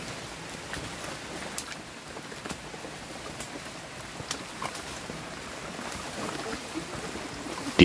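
Light drizzle falls on the forested trail to the Kawah Ratu caldera on Mount Salak, a soft continuous patter with occasional faint drips, fairly quiet and with no one speaking.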